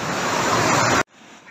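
Rushing water roaring through the Partnach gorge in the Alps, a loud dense wash of whitewater close by for about a second before cutting abruptly to a much quieter distant rush.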